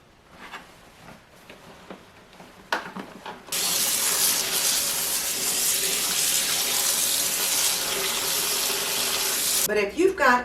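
Water from a tap gushes into a 5-gallon bucket for soaking jeans. A steady, loud hiss starts abruptly after a few seconds of quieter handling knocks and runs on without a break, then brief clattering at the very end.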